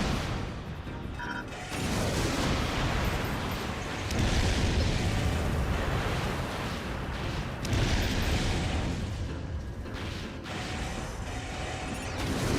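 Missile explosions booming in the mech combat game Armored Core: a dense, loud, continuous rumble of blasts and heavy crashes with repeated surges, alone with no talk.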